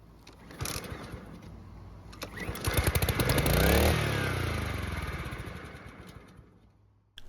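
Husqvarna lawn mower with a fuel system fault, its small engine cranking, catching and running on; a rough, rising clatter that peaks and then holds a steady droning idle, close and loud.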